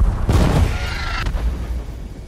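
A bomb blast in an action film about two snipers, a broad booming burst with a sharp crack near the start and a second hit about a second later, then a lingering rumble.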